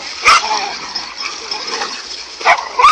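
Dogs fighting a cobra, with sharp close barks and yelps flaring at the start and again near the end over a steady background hiss.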